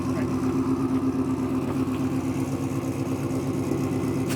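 A car with a cammed 350 engine idles nearby with a lumpy, throbbing rumble that stays steady throughout, while people talk over it.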